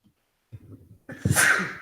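One person sneezes loudly and close by, with a short breathy intake and soft vocal sounds building just before the sharp burst.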